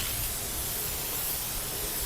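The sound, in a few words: spray paint can spraying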